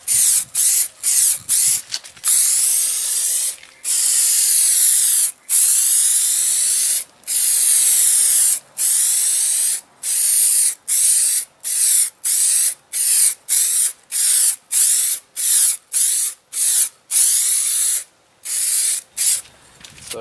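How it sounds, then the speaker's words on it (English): A spray paint can applies light coats to a car bumper in a long series of short, hissing bursts, each separated by brief pauses, loud and close with no talking. "just make sure you spraying very, very light coats of these"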